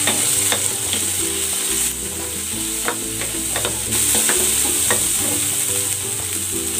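Chopped onion and tomato sauté in a hot pan, giving a steady, close sizzle with scattered stirring clicks and scrapes over faint background music.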